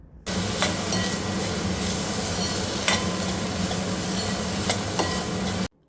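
Onion and soaked chana dal fry in a pan for a Konkan-style shirala vegetable dish, giving a steady, dense sizzle that runs throughout with a few brief scraping stirs and no talking.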